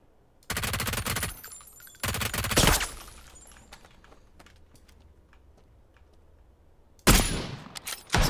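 Video game gunfire striking the player: three sharp, loud bursts of rapid shots separated by quiet gaps, with faint background noise in between.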